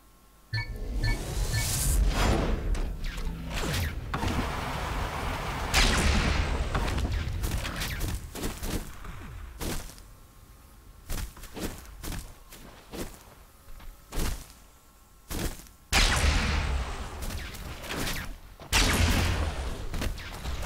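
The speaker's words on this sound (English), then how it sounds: "Garpy with all three rockets." Rockets firing in the arena shooter ShootMania during an ESL cup quarter final, repeated sharp blasts and booms in irregular bursts amid rapid footsteps and game noise across the whole span.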